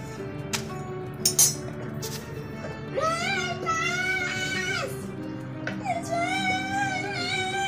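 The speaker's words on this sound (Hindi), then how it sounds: "उसे बोला कि तुम यहाँ चम्मच हिलाओ ज़रा" A few light metallic clinks from a spoon stirring in a cooking pot in a home kitchen, brief and close, soon covered by a voice talking and whining.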